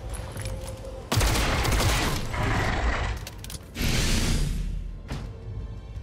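Loud bursts of automatic gunfire rattle in two sustained volleys in the squad-based tactics game XCOM Chimera Squad, separated by a short lull, with mechanical clicks around them.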